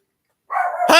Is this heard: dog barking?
yes